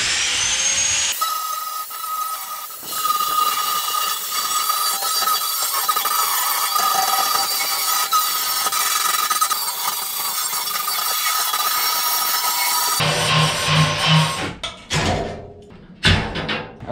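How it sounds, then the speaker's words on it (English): An angle grinder grinds slag off a steel edge while building snow pusher skids, whining steadily and loudly for about twelve seconds before breaking into shorter bursts and knocks near the end. "grab the grinder and knock this slag off, kind of clean this edge up"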